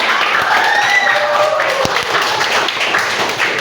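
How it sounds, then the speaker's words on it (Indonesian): Classroom applause for a student who named the Pancasila symbols: steady clapping from a group of students filling the room, with a few higher tones sounding over the claps. "kita beri tepuk tangan untuk Pak Saudara"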